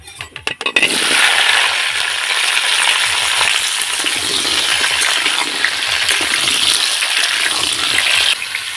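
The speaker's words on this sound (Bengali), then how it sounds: "এবার দিয়ে দিব আমি টুকরো করা আম" Raw mango pieces hit hot oil with fried bay leaf tempering for a sweet-sour mango pickle, setting off a loud, steady sizzle after a few brief clatters at the start, continuing unbroken with no talk.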